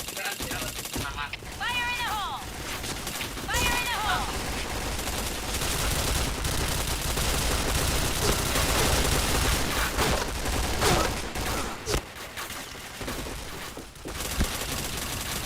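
Sustained automatic gunfire in the shooter game Point Blank, loud and dense throughout, with announcer callouts and a player's voice talking over the shots.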